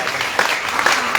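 Brief burst of audience clapping at a church tabernacle service in Kananga, loud and close, with a few sharper individual claps standing out.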